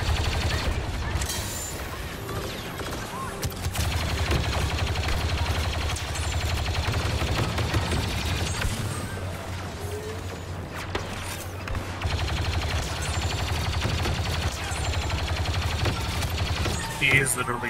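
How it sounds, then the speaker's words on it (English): Sustained rapid automatic fire from a minigun in Star Wars Battlefront 2, with continuous gunfire and explosions layered through a busy game battle mix, steady and loud throughout. "minigun the problem away."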